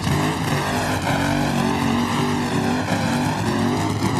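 John Force's nitro funny car drag racer rolls out at the 1995 NHRA Winston Select Finals, a loud, steady, close engine roar holding without a break.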